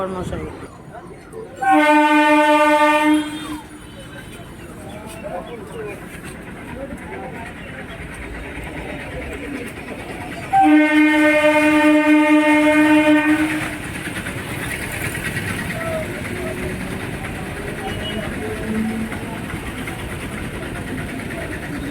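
A train at Thakurnagar station sounds two loud horn blasts about eight seconds apart, with rumbling and clattering rail noise and people talking between and around them.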